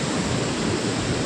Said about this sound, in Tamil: இப்போ தண்ணி பாருங்க எப்படி போயிட்டு இருக்குது